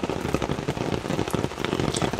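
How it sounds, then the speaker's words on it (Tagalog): Heavy rain pours down outdoors at midnight in a steady, dense roar of drops striking surfaces, close and loud, with no voices. "Lalong lumalakas na naman ang ulan"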